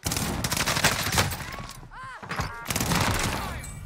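Rapid AS44 assault rifle gunfire in Call of Duty Warzone on Rebirth Island, loud dense bursts with a brief lull mid-clip where a voice groans, then more shots, under some game noise.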